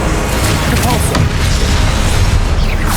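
Repulsor spell blast in the wizarding action game Hogwarts Legacy, a loud booming burst of force over busy combat noise, with a voice speaking over part of the mix.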